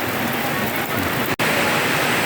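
Dense, steady rushing of heavy rain with no talking, broken by one brief dropout partway through.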